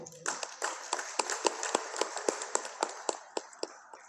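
Sparse, scattered hand clapping from an audience at an Indonesian-language university event, roughly a dozen sharp claps at an uneven rhythm over a few seconds, moderately close with no talking.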